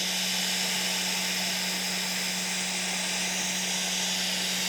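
A hot air rework station, flow set to about 80, blows through its nozzle onto a game controller circuit board, giving a steady close broadband hiss with a constant low hum beneath it and no talking.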